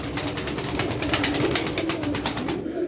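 A pigeon coos repeatedly at close range, soft throaty rolling calls pulsing in quick rhythm from a loft, with no voices present.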